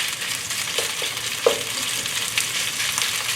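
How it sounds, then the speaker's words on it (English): Steady, crackling sizzle of chicken frying in a hot pan for chop suey, with a few soft clinks of stirring scattered through. "If you can hear the sizzle sound, that means you do good."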